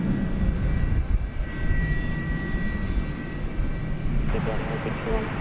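A UPS cargo jet, flight 761, at DFW Airport, its engines rumbling at moderate volume with a tonal whine, while a person talks over the noise.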